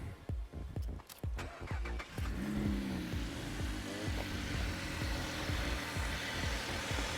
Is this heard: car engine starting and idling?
yes